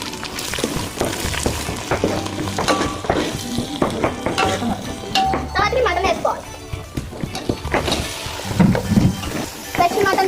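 Ginger paste frying and being stirred in a pan, with scraping and clinking against a steady sizzle, while a person talks over it throughout.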